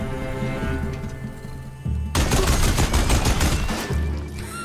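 Heavy Deathbringer gun in Horizon Zero Dawn firing a continuous rapid-fire barrage, loud and sustained over a steady rumbling game soundscape with no talk.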